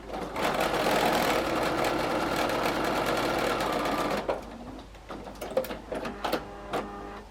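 A sewing machine stitching a quilt fabric strip, a loud fast steady whirring run of about four seconds, then stopping and giving way to quieter short bursts and handling sounds.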